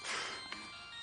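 A phone ringtone sounds briefly, a steady electronic tone at moderate to faint level, with no talk over it.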